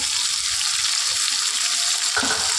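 Cauliflower and potato curry fries in a pan with a steady, close hiss and sizzle, punctuated by a soft stirring scrape near the end; no one speaks.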